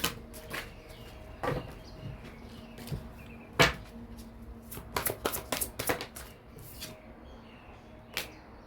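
A tarot card drawn from a deck: several sharp papery snaps and slides of cards in a quiet room, with a cluster of quick flicks and handling noises near the middle, close and fairly crisp, no talking.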